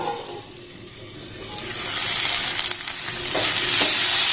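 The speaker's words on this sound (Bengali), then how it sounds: "প্রথমে আলু আর মাশরুমটাকে সমস্ত মশলার সাথে খুব ভালোভাবে কষে নিতে হবে" Potatoes and mushrooms are stir-fried with spices in a pan, a moderately loud sizzle that builds and grows brighter, with scraping stirs breaking through now and then.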